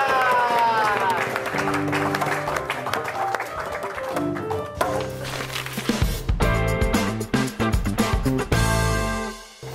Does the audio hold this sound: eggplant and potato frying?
no